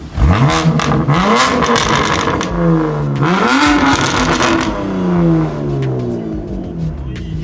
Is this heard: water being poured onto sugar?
no